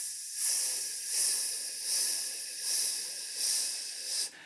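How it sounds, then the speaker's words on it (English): A choir singer's long legato hiss, pulsed by the core muscles in a vocal exercise, swells about five times in a steady rhythm without ever breaking, close and alone. "So we're going to have a long legato sound, but we're going to use the core muscles to do some pulsing along the way."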